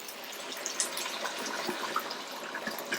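Boiling water pours into a kazan of vegan Uzbek plov, a steady gushing splash with soft bubbling and occasional clinks, moderately close and heard without talk.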